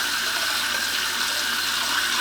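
Water hissing steadily into the tank of a RekeSmt smart toilet as it refills after a flush, a constant close rushing sound with no voices.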